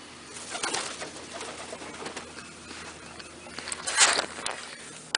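Pigeons coo softly inside a loft, low and fairly distant, with a brief louder burst of bird sound and possible wing flutter near the end.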